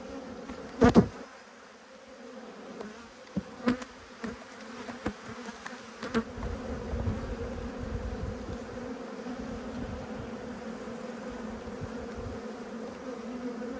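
Honeybees hum in a steady, close drone as a hive is opened for inspection in an apiary, with a few sharp clicks and knocks of frames being handled early on.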